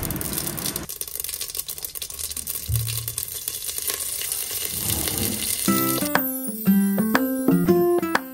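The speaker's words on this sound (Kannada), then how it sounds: "ಒಂದು ಕುಕ್ಕರಲ್ಲಿ ಸ್ವಲ್ಪ ಎಣ್ಣೆ ಹಾಕ್ಕೊಂಡು ಅದಕ್ಕೆ ಸಾಸಿವೆ, ಕರಿಬೇವಿನ ಸೊಪ್ಪು, ಬೆಳ್ಳುಳ್ಳಿ ಹಾಕಿ ಚೆನ್ನಾಗಿ ಫ್ರೈ ಮಾಡಬೇಕು" Mustard seeds, curry leaves and garlic sizzle and pop in hot oil in a pressure cooker, a steady crackling fry that runs throughout, with background music coming in toward the end.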